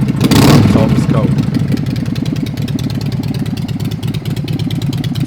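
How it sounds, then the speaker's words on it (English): A custom Harley-Davidson motorcycle engine idles close by in a steady, loping rumble, with a brief voice heard over it at the very start. "Today we are looking at two custom Harleys."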